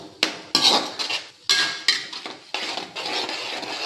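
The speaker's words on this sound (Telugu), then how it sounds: "దీన్ని బాగా ఫ్రై చేసుకోవాలి మనం" Curd and red chilli paste being stirred and fried in a pan for a mustard oil fish curry, heard as sharp, repeated metallic scrapes and clinks of a spoon against the pan in an irregular rhythm, close up.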